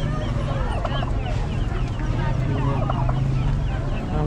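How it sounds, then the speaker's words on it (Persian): Roosters and other fowl at a weekly outdoor bazaar in Amlash, Gilan, Iran, clucking and calling repeatedly over a constant crowd murmur and nearby chatter, moderately close. "خروس هم داره."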